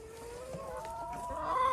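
Cornish Cross meat chickens, a breeding pair, cluck steadily in a coop, their low, continuous fowl calls close and moderately loud with a faint crow-like note toward the end; no one speaks.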